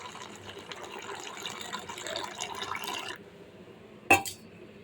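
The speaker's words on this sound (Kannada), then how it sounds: "ಅದಕ್ಕೆ ನಾನು ನೀರು ಸ್ವಲ್ಪ ಜಾಸ್ತಿನೇ ಹಾಕಿ ನೋಡಿ." Water poured into a chickpea flour mixture in a home kitchen, a steady splashing gush for about three seconds that stops abruptly, then a short sharp clink near the end.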